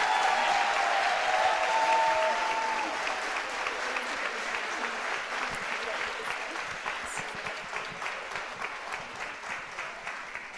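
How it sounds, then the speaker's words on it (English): People rising in a courtroom-style gathering applaud the Honorable Judge Haatchett, starting with full, dense clapping that thins into scattered, rhythmic claps as it winds down, with faint voices beneath. "and applaud the Honorable Judge Haatchett"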